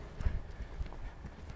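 A horse's hooves clip-clop on the ground during a riding lesson, a few soft irregular thuds at a moderate distance over low background noise.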